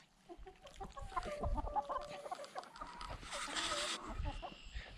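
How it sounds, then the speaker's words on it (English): Backyard chickens cluck repeatedly outdoors, a busy overlapping chorus of short clucks and murmurs, faint and nearby throughout with no talking. "But there's the spoiled chickens."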